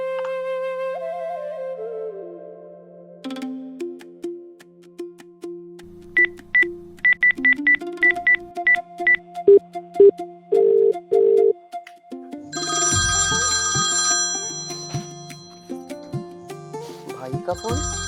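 Phone keypad tones beep in a quick series, followed by a ringing tone and a burst of a ringtone melody, with music underneath.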